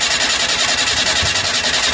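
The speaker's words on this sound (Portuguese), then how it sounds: "O carro tá fora de ponto, não sei se vocês estão ouvindo aí, tá dando uns estouros no escapamento" A Fiat Uno engine running out of timing, its exhaust giving rapid, rhythmic pops and backfires, loud and close, a continuous throbbing chug with no talk over it.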